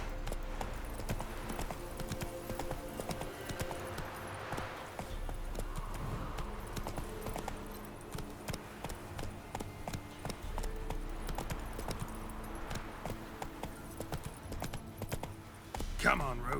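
Hooves of the horse Roach in The Witcher 3 beat in a fast, rhythmic gallop that runs nearly continuously, with brief changes in pace and a voice speaking over the hoofbeats.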